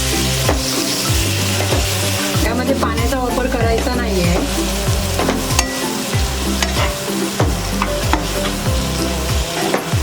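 Half a kilo of spiced chicken being stirred and fried in a pan over low gas, with a steady sizzle and rhythmic scraping strokes of the spoon, while someone speaks briefly over it.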